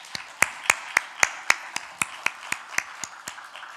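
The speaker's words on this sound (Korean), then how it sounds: "박수로 한번 하겠습니다." A church congregation at a joint worship service claps in a steady, even rhythm, sharp slaps landing about four times per second, fairly close and moderately loud with no talk over them.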